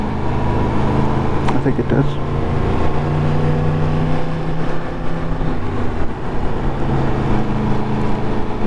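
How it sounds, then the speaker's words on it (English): A lorry squeezes along a narrow road, its steady low engine rumble and road noise filling the scene at close range, with a brief voice speaking over it. "lorries like this have to come through this"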